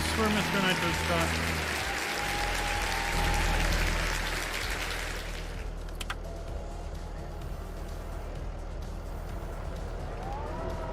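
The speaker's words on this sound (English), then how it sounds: "Everybody give a big all round of applause for Mr. Nitro Scott." Applause sounds during a Farming Simulator 22 livestream, a dense crowd clapping for about five seconds before it cuts off abruptly. Quieter background sound follows.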